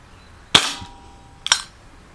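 Two sharp shots from an Umarex air pistol, each a crisp snappy crack about a second apart, close and fairly loud in a quiet setting.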